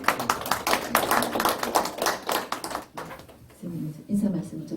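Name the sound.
audience applause welcoming a poet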